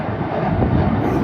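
An airplane flies overhead at an airshow, a steady broad engine roar unseen in the sky, loud and continuous with some wind noise over the microphone.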